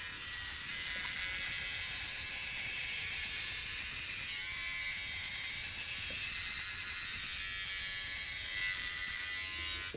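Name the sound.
electric hair clipper struggling through wet hair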